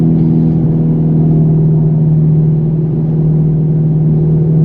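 A steady, loud synthetic engine drone from an electric Dodge Charger accelerating hums continuously, resembling a combustion motor under acceleration, with no voices.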